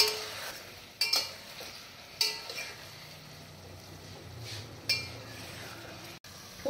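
A spoon stirs turmeric, cumin powder and dried fenugreek in a kadhai while making Amritsari kadhai aloo, giving a few sharp metallic clinks and scrapes over a faint, steady sizzle.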